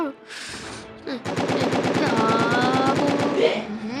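Rapid automatic gunfire rattles in a fast, even burst while fighting zombies in the Roblox game Zombie Hunter, loud and close, with game sound effects and tonal blips layered over the shots.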